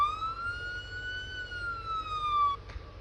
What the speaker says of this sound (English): Very basic police siren